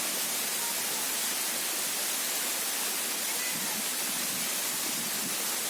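Grobogan Sewu waterfall heard up close from beside the cliff, a steady, dense roar of falling water that fills the whole clip without pause.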